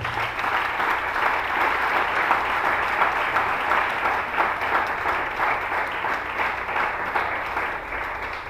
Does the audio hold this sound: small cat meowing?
no